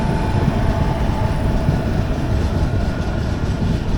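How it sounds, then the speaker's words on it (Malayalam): The Howrah–Pune Azad Hind Express passes close by, a loud, continuous roar of wheels and rushing air that holds steady throughout with no talking. "ആസാദ് ഹിന്ദ് എക്സ്പ്രസ് ആണ്, ഹൗറ പൂനെ"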